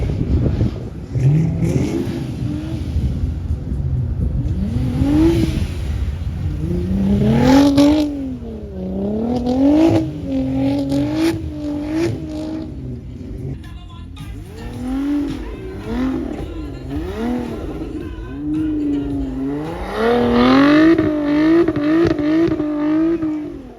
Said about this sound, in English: Oh, that car sounds so good actually.